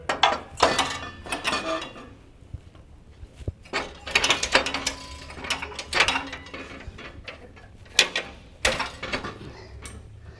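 A tool being inserted into a Power Ox hitch mechanism gives a series of irregular metallic clanks, clicks and ratcheting knocks, close and fairly loud, with short pauses between bursts and no talking.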